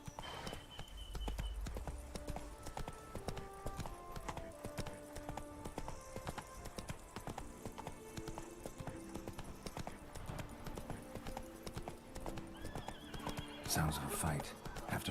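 Horse hooves clip-clop at a gallop with repeated neighs and whinnies while riding in The Witcher 3 video game, layered over a steady game music score; speech is also present.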